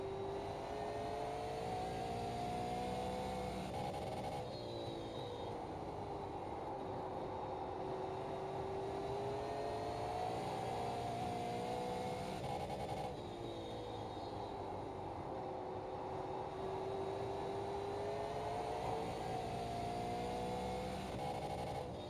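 Super Late Model race car engine in iRacing, circling Nashville Fairgrounds short track, a continuous loud droning roar with rising and falling pitch as the car accelerates and lifts through the turns.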